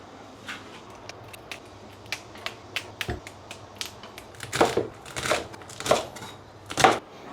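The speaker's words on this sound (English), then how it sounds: "cut off both ends of each bean and slice" A knife cuts green beans into sections on a board, giving sparse crisp taps at first and then a quicker run of louder chopping strokes near the end, with no voices.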